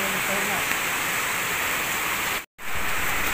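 Heavy rain pours down in a dense, steady roar at close range, loud and unbroken apart from a sudden split-second dropout near the end.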